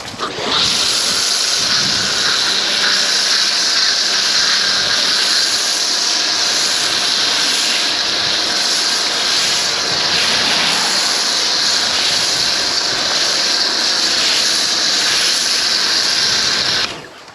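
MJJC foam cannon spraying Autoglym snow foam onto a 2024 Subaru Forester STI during a wash, a loud, steady pressurised hiss running almost unbroken for the whole stretch with no talking.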